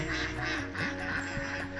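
Several ducks on a duck farm quack continuously in a dense, overlapping chorus, fairly close and steady throughout, with no talking.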